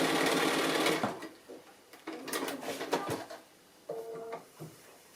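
A sewing machine stitching a quilt-as-you-go block runs steadily and close at first, then stops, followed by a few short bursts of stitching and light handling noises.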